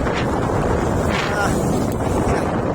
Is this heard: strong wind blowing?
yes